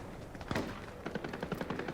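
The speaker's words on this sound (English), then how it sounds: "Oh, we hear gunfire." Bursts of rapid gunfire in Fortnite at a moderate distance, a sharp volley followed by a quicker rattling string of shots, with no voices.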